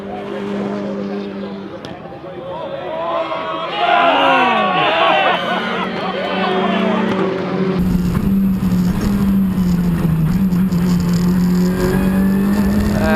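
Race cars compete at Donington Park, engines revving and shifting pitch as they scream past, with an announcer speaking loudly over the track noise and a sustained roar of cars filling the second half.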